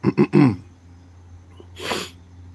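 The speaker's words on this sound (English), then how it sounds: "I've had a bad cough a few days now. That must have been loud as hell." Three quick, harsh coughs come close together, then a single louder, breathy cough follows after a short pause.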